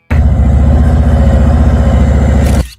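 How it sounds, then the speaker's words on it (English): Harley-Davidson Ultra Limited touring motorcycle with a Milwaukee-Eight (M8) engine idling close by, a loud, steady low hum with an even rapid pulse and no lumpy lope, holding constant for nearly three seconds before cutting off. "At idle, the Ultra Limited sounds too polite."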